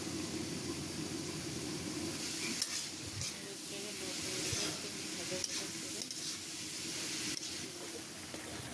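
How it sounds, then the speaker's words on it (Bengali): Boiled yardlong beans fry in a little oil in a pan, a steady close sizzle and hiss with occasional stirring scrapes throughout. "এখন সামান্য একটু তেল দিয়ে বরবটি গুলোকে ভালো করে ভেজে নিচ্ছি"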